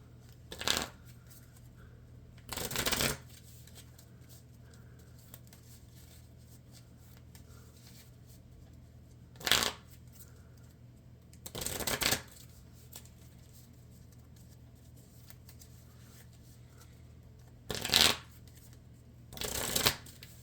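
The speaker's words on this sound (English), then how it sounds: "then I will shuffle my deck" A deck of Marvel Champions cards is shuffled in short riffling bursts, each a second or so long, repeated several times with quiet pauses between, close and crisp.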